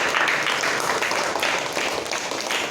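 A crowd of children applauds loudly and steadily at a martial arts event, a dense, continuous wash of claps with no pauses and no voices on top.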